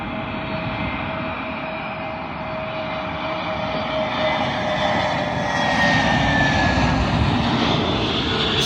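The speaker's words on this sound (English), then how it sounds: "Arriving in now is a British Airways A320neo, working a service from Malaga to London Heathrow." A British Airways Airbus A320neo jet arrives at London Heathrow runway 27L, its engine roar steady and fairly loud throughout, with a faint whine that swells slightly toward the end as the airliner passes nearby.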